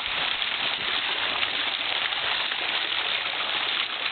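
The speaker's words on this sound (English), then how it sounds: "and they shoot water to the inside." Steady, continuous rush of water sprayed inward from fountain valves during a test at the Pentagon fountain in Washington, a dense hiss that holds unchanged throughout with no voices.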